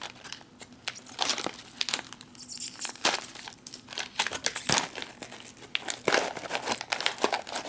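Vacuum-sealed pouch from a Swedish 24-hour freeze-dried ration crinkles and crackles loudly as it is handled and opened, a continuous close-up rustle with sharp crunchy bursts throughout.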